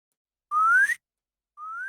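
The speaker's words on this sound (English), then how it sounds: "The sound of whistling. The same whistle I used to call my dog." Two rising whistles sound the way someone calls a dog: a clear, eerie tone sliding upward for about half a second, a pause, then a second fainter rising whistle, heard in otherwise silent surroundings.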